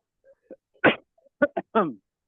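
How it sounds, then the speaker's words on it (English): A person coughs in a quiet room before a history lecture on Jerusalem archaeology: a few short, sharp bursts close to the microphone, separated by brief silences. "there's my cough, sorry about that."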